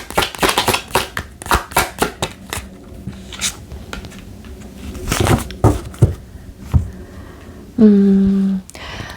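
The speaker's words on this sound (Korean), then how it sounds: "추가 카드 잠깐 뽑아보고 같이 리딩을 드릴게요." Tarot cards are shuffled and drawn with quick papery riffles and soft slaps in uneven bursts, close and crisp, ending with a short tonal electronic beep.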